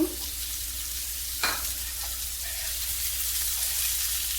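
Fresh prawns frying in a pan with chopped onion: a steady, loud sizzle fills the whole stretch, with a brief clatter as the prawns go in and light stirring scrapes, and nobody talking.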